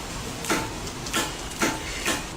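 A vehicle's starter motor solenoid clicks as it engages without the motor turning, giving four evenly spaced, soft, broadband clacks about half a second apart over a steady background hiss.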